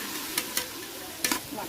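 Biryani masala with coriander-mint paste sautéed on high flame: a steady soft sizzle, broken by a few short scraping stirs of a spoon against the pan, heard close with no talk.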